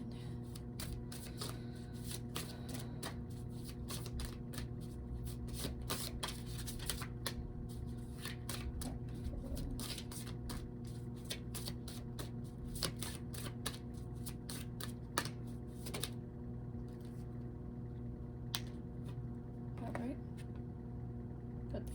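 Oracle cards are shuffled by hand in a long run of crisp, rapid riffling flicks over a low steady hum, fairly quiet and close.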